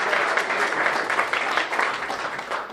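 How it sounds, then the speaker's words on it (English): An audience claps at a pilot safety live event, a brief burst of dense, even applause at moderate loudness, holding steady and then tapering slightly near the end. "Big hand of applause."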